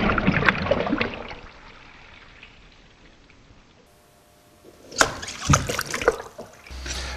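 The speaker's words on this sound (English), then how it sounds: "the wave builds and the front becomes steeper and crashes on the" Water in a wave tank sloshes and splashes as a tsunami-style wave crashes onto a model beach, fading to a low wash before a louder burst of splashing returns near the end.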